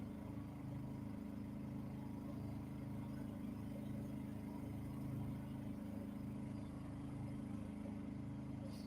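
A generator runs on a boat anchored off Elliot Key, a faint, steady low hum that stays constant throughout with no talk over it.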